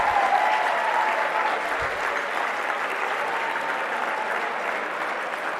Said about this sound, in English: can we give a round of applause for Hanger Clinic sponsoring the White Christmas Tree?